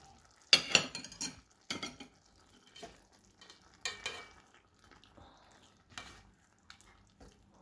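Scrambled eggs with sautéed ampalaya stirred in a pan, with several distinct clinks and scrapes of a utensil against the metal spaced among quieter sizzling stretches.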